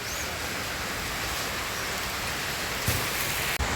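Steady rain pours down around a veranda as a dense, unbroken hiss, with a faint knock near the end.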